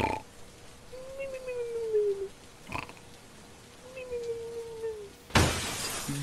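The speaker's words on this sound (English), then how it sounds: "someone broke the back door glass" Glass in a back door shatters in a home-invasion video game, a sudden loud burst of breaking glass near the end after a quieter stretch with faint tonal sounds.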